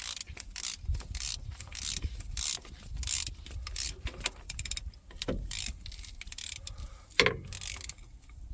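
A ratchet wrench tightens a 3/4 nut on the parking brake of a Terex backhoe, making close, irregular mechanical clicks and clanks in a quiet setting, with one sharp metallic knock near the end.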